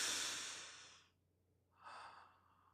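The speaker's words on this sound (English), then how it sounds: "Breathe." Slow human breathing during a calm, soothing moment: one long, close exhale trails off into a short pause, followed by a softer inhale-like breath.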